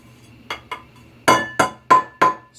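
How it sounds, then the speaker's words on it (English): A solid hand-hammered copper shaving lathering bowl is dropped onto a hard surface, giving six bright metallic clinks, two lighter taps and then four louder ringing hits in quick succession. "you drop it, you can tell it's solid, hand hammered"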